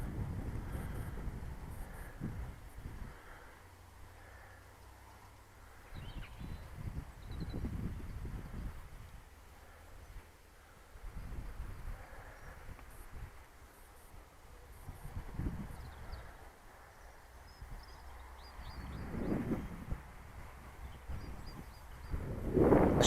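Strong wind blows across an open flying field where an RC glider is flown, heard as a low roar on the microphone that surges and fades in long gusts, with no speech.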